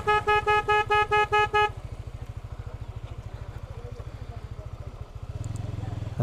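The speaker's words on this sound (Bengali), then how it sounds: "আমি হর্ন দিচ্ছি" A Yamaha R15 V3 motorcycle sounds its horn in about eight quick, loud beeps, then the engine keeps running with a rapid, even putter on a rural road.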